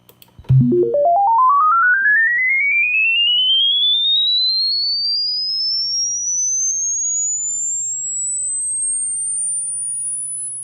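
A pure sine test tone from a signal generator, played through a 1978 Grundig Super HiFi Activ-BOX30 speaker, sweeps smoothly upward from low to very high pitch after a short click, steady and alone over a faint low hum.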